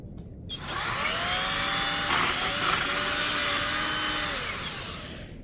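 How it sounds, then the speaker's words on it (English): An Ego cordless multi-tool head fitted with its pulse saw attachment runs and cuts, a loud, steady high whine that rises quickly, holds for several seconds with slight strain, then tapers off, with no talk over it. "that has been the Ego multi-tool head with the pulse saw attachment on it"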